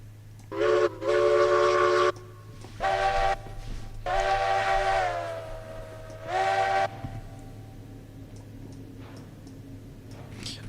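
A video-game train with a caboose sounds several bright, tonal whistle blasts of varying length, one long and several short, over a steady low engine drone.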